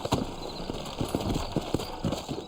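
Horse hooves clip-clop in the Red Dead Redemption video game, a walking gait of irregular thuds and knocks at moderate distance over a steady ambient background, with no talk.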